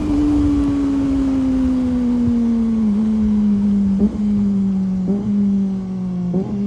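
A Kawasaki ZX25R motorcycle on a night ride gives a sustained, high-revving engine whine, loud and close, its pitch sliding gradually with brief dips as gears change.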